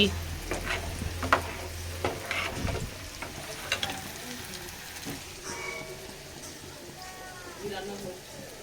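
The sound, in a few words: dal (lentils) frying and being stirred in a pan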